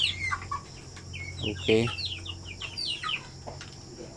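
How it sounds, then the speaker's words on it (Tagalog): Zampen native chickens cluck and chirp softly in a pen amid a low steady hum, with one louder squawk in the middle; a person says a brief word. "nag-breeding tayo ng mga pure lines na sampin native chicken"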